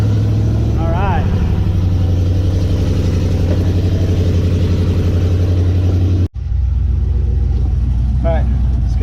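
Car engine of a sand limo cruiser running: a steady, loud low rumble idling throughout with a brief dropout near the end, a voice speaking over it.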